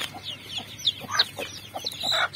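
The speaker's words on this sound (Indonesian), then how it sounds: "Inilah perbandingannya ayam umur 10 hari yang dipelihara dengan induknya dan inkubator." Ten-day-old chicks peep in quick, high, overlapping chirps, close and fairly loud, with a few faint clucks mixed in.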